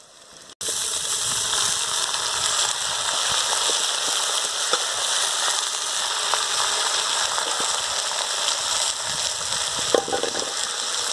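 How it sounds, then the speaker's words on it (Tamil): Cluster beans drop into a hot pan with a sudden onset, then fry in a loud, continuous close-up sizzle with occasional stirring clatter for a South Indian stir-fry. "நல்லா வதங்கிடுச்சுங்க இப்போ நான் கொத்தவரங்க ஆட் பண்ணுறேன்"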